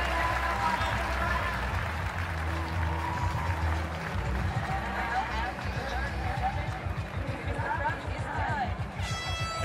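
A crowd at the 2023 CrossFit Games men's final heats cheers and claps steadily for an athlete, with air horns and a commentator talking over the noise.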